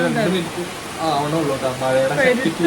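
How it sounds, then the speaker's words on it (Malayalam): Steady rain hisses in the background while someone talks over it. "മഴ തുടങ്ങി കേട്ടോ"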